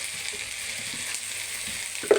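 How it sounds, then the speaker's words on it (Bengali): Spice paste of garlic, cumin, turmeric, salt and green chillies sautéing with onions in hot oil for a tengra fish and tomato curry, a steady close sizzle with soft stirring scrapes and a brief clink near the end. "পরিমাণ মতো কাঁচামরিচ দিয়ে মশলাটাকে আমি ভালো করে কষায় নেব।"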